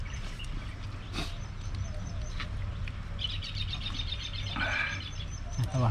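An outdoor bird calls with a few bright repeated chirps midway, moderately close, over steady background noise with scattered clicks and knocks.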